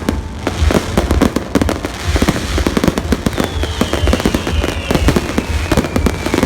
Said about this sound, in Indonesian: sambil ngeliat kembang api